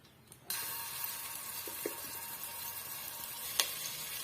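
Ginger garlic paste hits hot oil with a sudden loud sizzle that continues steadily, with a few utensil clicks and scrapes against the pan.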